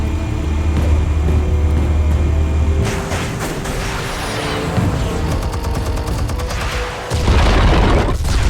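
Explosives detonate in the Batman: The Telltale Series video game, a loud sustained boom with crackling debris and a second heavy blast near the end, alone without speech.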